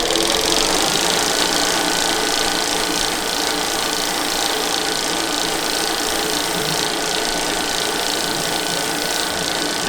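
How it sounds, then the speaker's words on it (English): A tungsten electrode for a Lincoln Aspect 230 welder is sharpened on a grinder, making a loud, steady, close whirring grind that runs unbroken for about ten seconds. "Now we just need to sharpen our tungsten."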